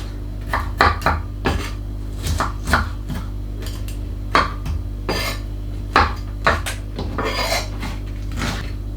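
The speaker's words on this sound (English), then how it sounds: "Again, you can roughly chop this guy up" Irregular knife strikes on a board chop an ingredient for prawn curry, with light clinks of utensils and cookware between them, close by and fairly loud, steady background hum underneath, no talking.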